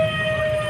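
An ambulance siren stuck in heavy traffic: a steady, sustained tone holding over the rumble of road noise, continuous throughout the short stretch.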